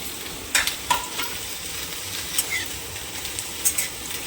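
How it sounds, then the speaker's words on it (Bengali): Whole spices tempering in hot oil (bay leaf, dried red chilli, fennel, cumin, cloves, cinnamon, cardamom): a close, continuous hiss of frying broken by a few scattered crackles and stirring clicks, with no voices. "এবার আমি তেল গরম হয়ে গেছে, ফোড়ন দিয়ে দেবো।"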